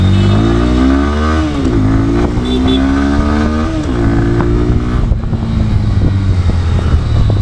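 A Bajaj Pulsar N125 motorcycle pulls away and accelerates through the gears, its engine note rising and dropping at each shift. Close and loud, with no talk over it.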